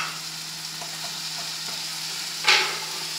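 Shredded chicken stirred and cooking in a hot pan, a continuous gentle sizzle with light scraping and one louder stir-scrape near the end, no talking.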